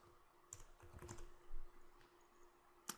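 Search text being typed on a computer keyboard, a few quiet, sparse key taps at low level with one sharper click near the end, no voice.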